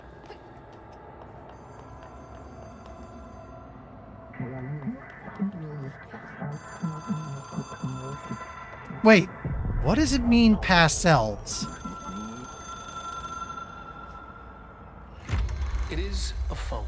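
An old-style telephone with an otherworldly line rings in the game Control, repeated bursts over a low ambient drone, while someone talks over part of it.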